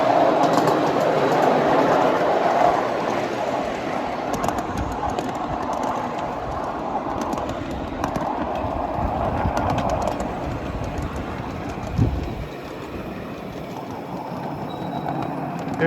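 Ride on a 7.5 inch gauge miniature train flat/tank car along the mainline, a continuous close rumble of wheels on track with faint rhythmic clicks, steady throughout, a louder jolt near the end and birds faintly behind.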